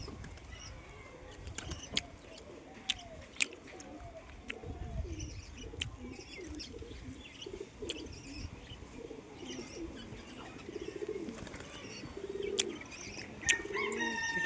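Pigeons coo repeatedly at a rooftop loft, soft throaty calls rising and falling over steady outdoor background noise, with occasional wing flaps and faint chirps.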